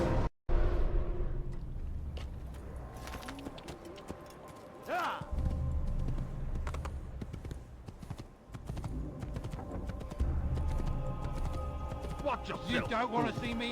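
Horse hooves in Assassin's Creed pound in a fast, rhythmic clip-clop gallop with a brief whinny, while game voices talk over the hoofbeats throughout.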